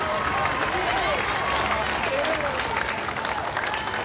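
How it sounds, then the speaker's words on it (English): Spectators along the 1981/82 London Marathon course applaud an 80-year-old finishing runner, a continuous wash of distant crowd clapping and cheering with a commentator's voice faintly over it. "And there's a special round of applause for him."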